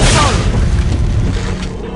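The Depulso spell from the Harry Potter and the Prisoner of Azkaban PC game lands as a loud, booming blast that fades into a rumbling tail, with a voice heard around it.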